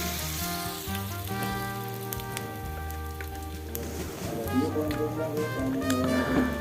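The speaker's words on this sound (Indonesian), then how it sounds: "Lalu kita goreng tahunya." Tofu fries in hot oil with a steady crackling sizzle like light rain, growing busier toward the end, alongside soft background music.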